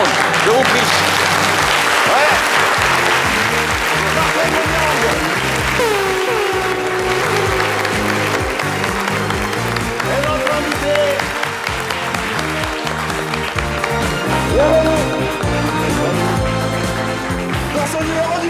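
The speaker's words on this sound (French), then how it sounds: "souhaitons tous ensemble sous fond de musique, lumière et applaudissements la bienvenue" Upbeat music plays loudly with applause mixed underneath as a guest is welcomed on a French-language program, the clapping blending into the continuous track for the whole stretch.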